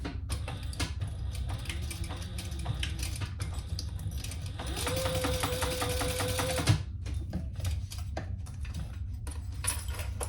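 A sewing machine stitches a bag strap, its rapid needle chatter running fairly loud and close, rising into a faster, denser whir partway through before stopping abruptly, with small clicks and handling noises around it.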